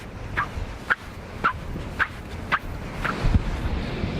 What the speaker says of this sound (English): The sand in Australia, it makes noise.